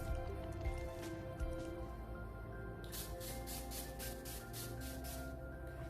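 A NYX Professional Makeup Dewy Finish setting spray gives a quick run of short, soft hissing pumps, close and quiet, in an otherwise still room.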